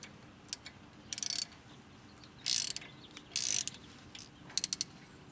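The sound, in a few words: tightening bolt with 6 mm Allen wrench on BMW E36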